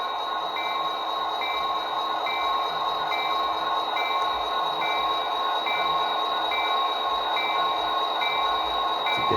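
Athearn GP40-2 model locomotive in Union Pacific paint running with DCC sound, giving a steady continuous diesel engine drone with a high tonal whine and faint periodic ticks, loud and even throughout with no talking.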